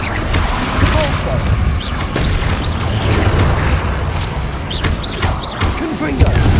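A Repulso spell blasts in the Hogwarts Legacy video game amid busy combat, with continuous loud booms, crashes and whooshing effects layered together over several seconds.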